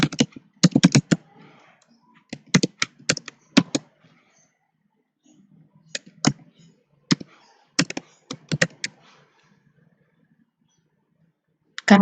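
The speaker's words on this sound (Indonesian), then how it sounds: "Anda bisa ketikkan alamat emailnya." Fingers type an email address on a computer keyboard in quick clustered bursts of crisp key clicks, separated by short pauses, close and clear with no voice.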